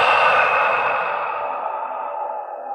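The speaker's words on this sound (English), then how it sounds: "we will exhale out of our mouths" A long, deep exhale pushed out through the mouth during a guided relaxation, a breathy airy rush that is loud at first and slowly fades over a few seconds, heard alone without talk.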